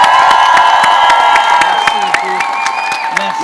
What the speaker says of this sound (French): j'aimerais qu'on fasse un tonnerre d'applaudissements pour mon invité de la soirée,